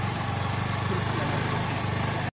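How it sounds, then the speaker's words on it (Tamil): A small petrol engine on a petrol-electric hybrid Honda Activa scooter idles nearby with a steady, fast chugging pulse, running continuously until it cuts off abruptly. "Engine sound கேட்குங்களா?"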